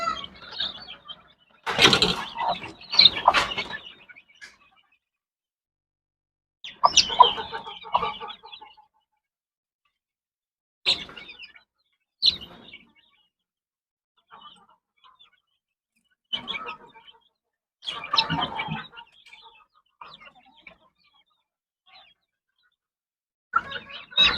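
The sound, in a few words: chicks and chickens clucking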